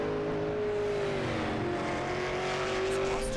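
A race car on a qualifying lap at the Snow Derby, 5 Flags Speedway, holds a steady high-revving engine drone that shifts pitch slightly as it runs around the track, continuous and fairly distant.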